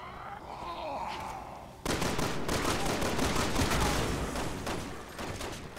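Sustained pistol gunfire in Resident Evil 6 co-op: after a quieter stretch of game sound, a loud barrage of rapid shots starts abruptly and continues densely to the end, with groaning enemies faintly mixed in.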